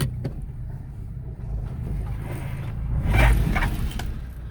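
A car's engine and drivetrain rumble close by as it shifts and moves forward and then backward, a steady low drone that swells briefly near the end, with no talking.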